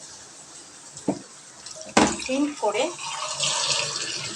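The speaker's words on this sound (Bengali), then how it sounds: "পরিমাণ মতন জল দিয়ে দেবো।" Tap water poured into a pan of fish cooking in mustard sauce with vegetables, a short splash and gurgling flow followed by a steady running rush, with a brief tap and a few spoken words early on.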